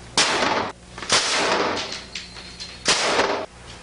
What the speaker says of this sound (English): Oh, these machine guns are so awesome.